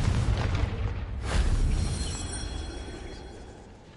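A Confringo blasting spell explodes in Hogwarts Legacy with a loud boom that swells near the middle of the clip. A rumbling tail follows, with a faint whistling ring, and no talk is heard.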